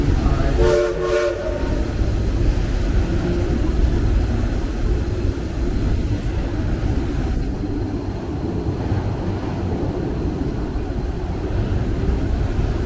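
A steady low rumble of a passenger train rolling along, with a brief horn-like tone near the start, continuous and fairly loud throughout.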